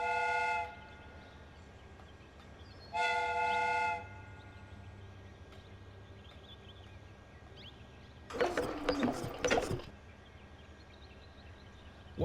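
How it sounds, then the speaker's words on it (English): A steam whistle on a replica train in the Sherlock Holmes: Crimes and Punishments video game gives two clear sustained blasts with a pause between, followed later by a burst of hissing, rattling machinery. "The steam whistle is ready to be used."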